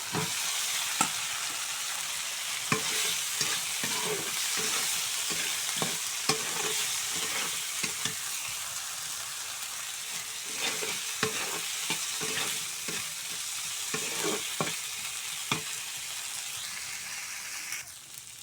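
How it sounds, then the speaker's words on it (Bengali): Fried potatoes stirred into a pan of pangas fish curry, with steady loud sizzling throughout and frequent scraping and clicking of a spoon against the pan, no talking. "এই যে ভেজে রেখেছিলাম সেই আলুগুলো এই যে এখন ছেড়ে দেবো।"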